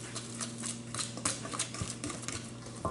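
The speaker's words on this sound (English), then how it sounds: "And we're going to whisk that all together." Flour, baking powder and salt being whisked together in a bowl, a quick rhythmic patter of whisk strokes scraping and tapping, close and moderately quiet, without talk.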